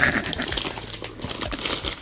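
A plastic bag wrapped around room lights crinkles and rustles close by as it is unwrapped, a short run of soft crackling at a fairly even level.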